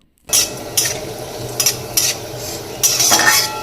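Cashews and raisins fry in white oil in a wok, a low steady sizzle broken by several sharp metallic scrapes and clinks of stirring, close and fairly loud, with no voices.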